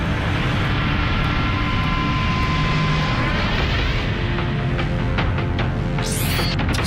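An airplane in flight gives a constant loud, broad roar that never lets up, with a brief rising whoosh near the end.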